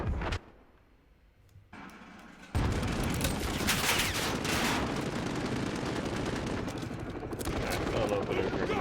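In the Call of Duty video game, a quiet lull of a couple of seconds gives way to loud grenade explosions and sustained rattling gunfire that continues to the end.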